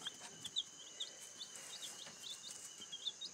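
Backyard chickens waiting for breakfast make quick, soft clucks and chirpy calls, repeated every half second or so. The sound is faint and a little distant against a quiet outdoor background.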